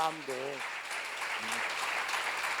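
A church seminar audience breaks into sustained, dense applause after a brief spoken Korean phrase, the clapping steady and fairly close.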